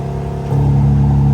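A Pontiac G8 GXP engine with exhaust valves open drones loudly and steadily, then its pitch steps up slightly as it revs, giving a fuller, throatier exhaust hum.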